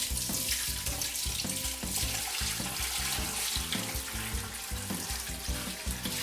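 Whey pours and splashes continuously from cheddar curds into a cheesecloth-lined colander, a steady, close, gushing liquid rush with no talking.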